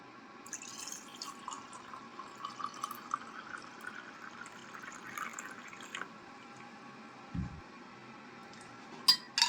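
Hot water poured into a cup over two or three dried longans, a faint thin trickle and soft drips, close and quiet, ending with a light clink and a couple of small knocks.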